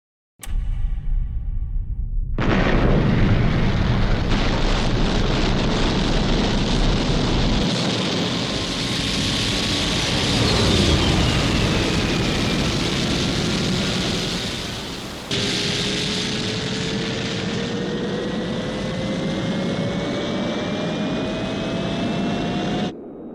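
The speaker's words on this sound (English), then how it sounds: "Stand by for blastoff." A Thunderbird rocket blasting off with a roaring engine: a dense, loud, continuous roar with rising whine tones that holds steady for over twenty seconds, with no voices present.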